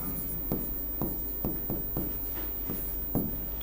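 Chalk or marker writes on a board in a steady series of short strokes, each a soft scrape recurring roughly every half second, close and moderately loud with no talk over it.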